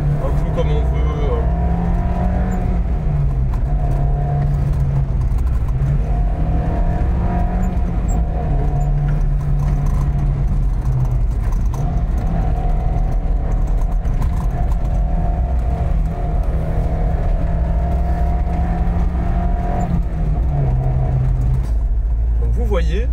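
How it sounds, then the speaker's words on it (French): A 1.3-litre 16-valve Suzuki Jimny III 4x4 engine drones and revs nearby, its pitch rising and dropping several times under a continuous loud hum, with a voice talking over it at times. "On peut le faire un peu gueuler ce moteur."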